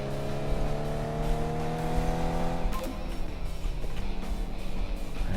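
A loud Mercedes-Benz car engine in Car Mechanic Simulator 2015 drives a slalom section, holding a steady droning revs with a shift partway through and brief tire noise, close and continuous with no talking.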